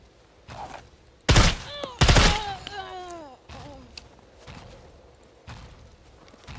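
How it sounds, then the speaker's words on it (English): Gunfire in the video game SCUM during a bunker raid: two loud close bursts of shots in quick succession, then scattered quieter reports trailing off. "Shooting."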